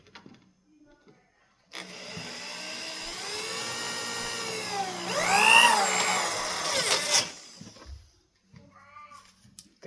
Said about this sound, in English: There goes the fabric. It got tangled in the drill bit.